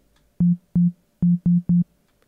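A synth bassline note sequenced in FL Studio, shifted down an octave to F5: five short, evenly pitched tones in a quick uneven rhythm, clean and alone with no talk.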